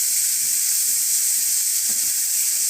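Onion, tomato and chilli cooking with chicken in a hot pan give a steady, close sizzling hiss that holds evenly throughout, with one soft knock near the end.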